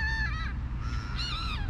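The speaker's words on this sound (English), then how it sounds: "Our little crows somehow got disturbed." Crows caw in two harsh bursts, one early and one late, with a quieter call between, heard outdoors near a lawn over a low steady background rumble.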